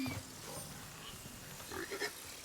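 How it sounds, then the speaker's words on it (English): Pigs in the survival game Nightingale, a few short grunts and snorts at moderate distance, scattered and faint over a low ambient background. "there's pigs"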